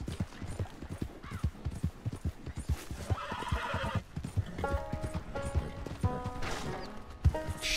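A horse in the Red Dead Redemption 2 video game gallops with rapid clip-clop hoofbeats, then neighs and whinnies loudly several times amid game effects.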